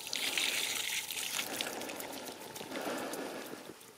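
Salt and vinegar water is gently poured away from food, a soft, close trickle and splash that runs steadily throughout at low volume.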